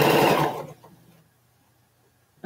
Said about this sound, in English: Then I'll sew off onto my scrap of fabric.